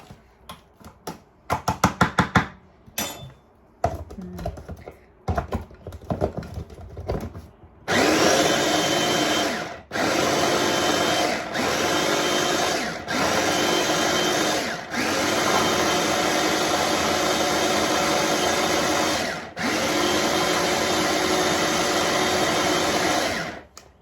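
A blender whirs as it mixes ingredients for Pakistani chapli kebabs, running loud and steady in several long pulses with brief stops between them. Some clattering kitchen handling comes before the motor starts.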